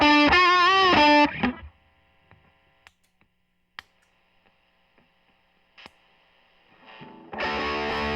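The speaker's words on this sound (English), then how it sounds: "This Traynor amp sounds fantastic on its own, on its first and second gain stage on the drive channel." An electric guitar played through the drive channel of a Traynor amp rings out with sustained distorted notes, then drops to near silence with faint clicks before a second loud, gritty chord returns at the end.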